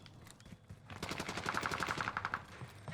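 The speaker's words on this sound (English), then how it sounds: "Once again, you heard gunshots." Rapid automatic gunfire in the Warzone video game on Fortune's Keep, a fast burst of evenly spaced shots at moderate distance lasting over a second, then tapering off.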